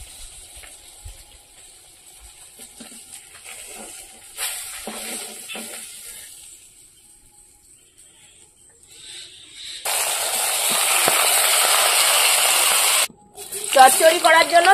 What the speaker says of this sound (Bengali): এবার মাথাগুলো ভেজে নেব।